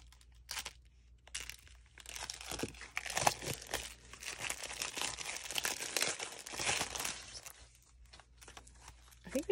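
Ateez photocards from a Neokyo haul being unwrapped, with plastic packaging crinkling, tearing and crunching almost nonstop at close range and short quieter gaps between bursts.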